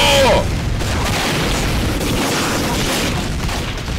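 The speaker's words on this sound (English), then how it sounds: "he just blew himself up" An explosion in Team Fortress 2, a player blowing himself up, bursts loud at the start, then leaves a dense, roaring rumble of fire and game noise that holds steady to the end.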